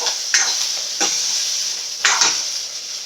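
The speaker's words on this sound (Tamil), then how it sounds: "எல்லாமே நல்லா வதங்கணும்." Tomato pieces sautéing in a pan for a ground-masala fish curry, a steady loud sizzle broken by three distinct scraping stirs at roughly one-second intervals.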